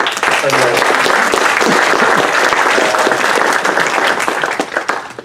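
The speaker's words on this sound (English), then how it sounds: "Can we get a round of applause for our panel?" Loud, dense applause fills the room, steady clapping from a sizable audience that tapers off slightly at the end.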